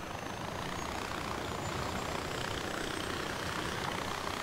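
Steady, loud rotor and engine drone of a helicopter in the video game Far Cry 4, a continuous broadband whir holding at constant level throughout with no talk.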